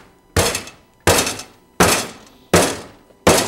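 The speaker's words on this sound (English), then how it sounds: "I'm still banging this veal" Five heavy, sharp thuds of a mallet pounding veal in a frying pan, evenly spaced under a second apart, each strike ringing briefly before the next.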